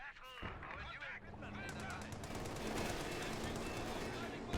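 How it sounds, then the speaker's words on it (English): MG42 machine gun in Company of Heroes 2 firing incendiary rounds, a steady rapid rattle of bursts amid battlefield noise, with voices talking over it. "See incendiary rounds used by the MG42."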